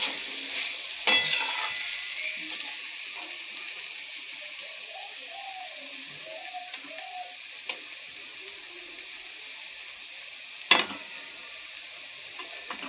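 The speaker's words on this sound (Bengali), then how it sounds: "ঘন ঘন লাড়তে হবে, তাহলে কড়াইয়ে লেগে যাবে।" Potatoes fry in a kadai, a faint low hiss running under a few sharp scrapes and ticks of a spatula spaced several seconds apart, quiet and without voices.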